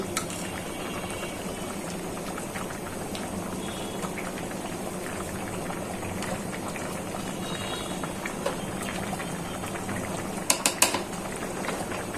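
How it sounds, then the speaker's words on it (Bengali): Rice simmering in a covered pot for bhuna khichuri, a steady soft bubbling hiss under faint kitchen clatter, with a few brief metallic clinks near the end. "ফুটে গেছে চাউলটা"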